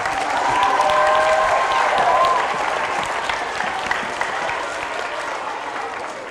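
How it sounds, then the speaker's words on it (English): A school assembly crowd claps steadily, loudest at the start and then gradually tapering off into lighter applause. "Give her a round of applause."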